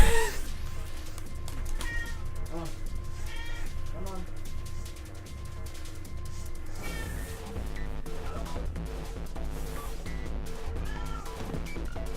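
A cat meows in the video game 999, heard loud and close over steady background music, with a few repeated calls.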